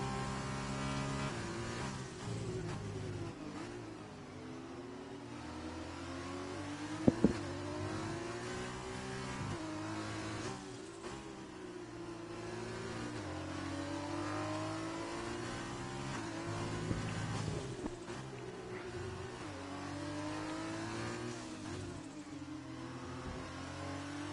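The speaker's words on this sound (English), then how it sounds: "as 10 Sandals comes into the pits now for his scheduled pit stop" Simulated F1 race cars in an esports Spanish Grand Prix video game race, several engines screaming and revving in constant rising and falling sweeps, loud and continuous, with one brief sharp knock partway through and no talking.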